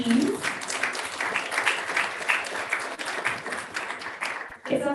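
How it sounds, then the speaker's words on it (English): Sustained applause from an audience at an invention competition's final presentation honors finalist teams, a dense, even clatter of many hands lasting several seconds before briefly fading. "Let's give one final round of applause to the three finalist teams."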